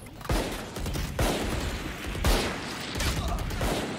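Gunfire in the video game Valorant, four loud close shots or short bursts spaced about a second apart, each trailing into a lingering noisy decay.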